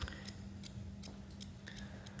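Scissors snip away tiny, precise pieces of hair near a cut line, giving a steady series of crisp, light metallic clicks about every half second against a quiet room hum.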